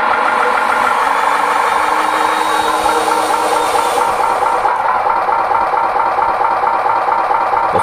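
Steady electronic diesel engine sound from the speaker module of a handmade RC miniature Hino 500 truck, running continuously at an even idle-like rumble with a faint high whine. No talk.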